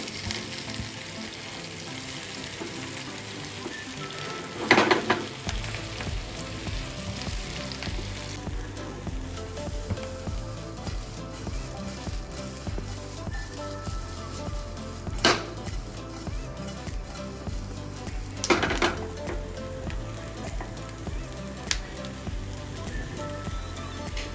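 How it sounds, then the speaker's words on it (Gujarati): Continuous frying sizzle as steamed bottle gourd muthiya dumplings are tossed in tempering oil, with occasional scraping and clanks of a spatula stirring, fairly steady and moderately loud. "મુઠિયાને છે ને આપણે હરવા હાથે હલાવી લઈશું આ રીતે ઉપર નીચે કરતા"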